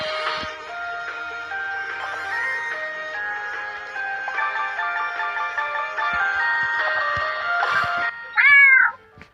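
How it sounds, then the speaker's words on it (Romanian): A cat meows once, a clear rising and falling cry close by, heard near the end after a steady stretch of electronic tones and melody playing from a phone. "Ignorați miaul, ok?"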